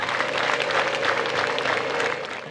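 An audience at a 2023 International Day of Rural Women celebration applauds, a dense, continuous wash of clapping that holds steady for a couple of seconds before easing off.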